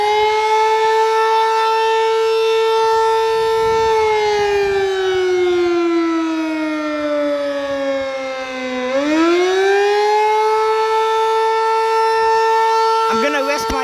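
A Sterling Model M civil defense siren wails loud and alone in a long, steady tone that slowly sags in pitch, dips sharply, then winds back up to full volume.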